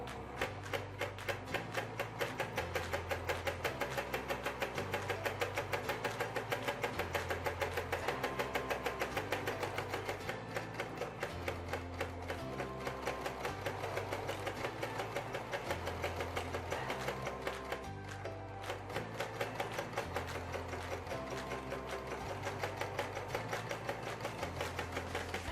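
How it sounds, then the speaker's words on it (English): A sewing machine stitches through crinoline in a steady, continuous mechanical whir with a rapid needle rhythm, running loud and close for the whole stretch with only a brief dip midway. "I'm just going to place the crinoline in the middle of the presser foot up, and I'm just going to sew all the way through"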